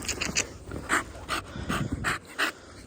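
An American Bully dog panting close to the microphone, a run of quick, rhythmic breaths in short bursts with brief pauses between them, heard outdoors with no talking.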